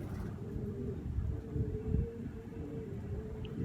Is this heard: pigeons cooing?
yes